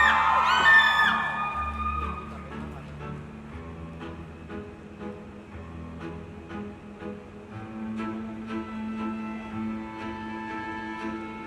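A crowd at a series launch event whoops and cheers loudly after a host's call, then settles into scattered clapping and shouts that continue through the rest of the moment.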